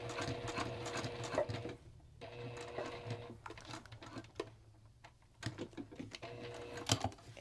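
A Juki TL18 sewing machine top-stitches thin vinyl for a strap connector, giving a close, rapid mechanical stitching rattle in bursts with brief pauses and soft handling noises between runs.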